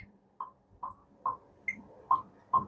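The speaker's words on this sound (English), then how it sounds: "counter or a tick-tock or a metronome" Soft, regular clicks tick at an even pace, about two per second, with an occasional higher accent tick, quiet against a faint background.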